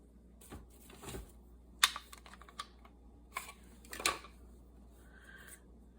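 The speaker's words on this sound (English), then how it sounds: "I'm going to cut them right next to the circles in the cards." Scissors snip through altered playing cards beside printed circles. Sharp, crisp clicks and cuts come at irregular intervals, close but quiet, with soft paper rustles between them.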